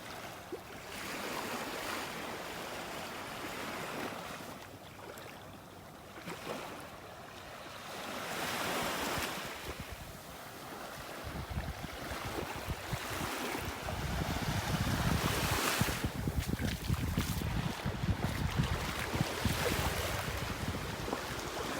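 Surf rolling onto a wide stretch of beach at Area 4 in North Naples, Florida, a steady broad wash of breaking waves that swells and recedes, with wind rushing across the microphone throughout.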